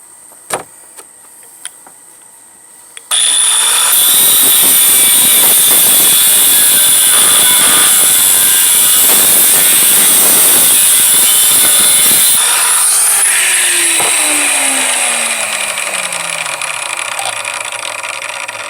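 An angle grinder cuts a line through an X13 engine motor casing being broken down for scrap. A few light taps come first, then a loud, sustained high whine for about ten seconds before the tool winds down and fades.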